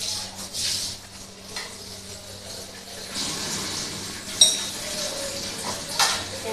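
A large heap of piled-up dishes and utensils at a sink: scattered clinks and knocks of metal and crockery over running water, with one sharper clatter partway through.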